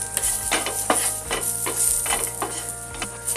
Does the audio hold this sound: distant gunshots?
no